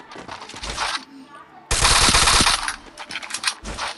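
Rapid automatic gunfire in the mobile battle-royale game Free Fire, loud bursts of machine-gun fire broken by brief pauses, with one long sustained volley in the middle.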